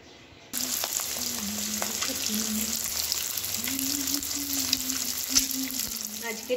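Chopped garlic and onion fry in a pan with a continuous crackling sizzle. A low hum runs underneath the whole time.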